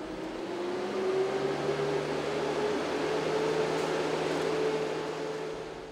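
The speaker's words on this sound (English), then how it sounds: "Look at the debris getting blown out of the bottom of the truck." Steady, loud whoosh of a Crown C-5 series truck's cooling fan blowing debris out from underneath, a continuous broadband roar over the engine's low hum with no talking.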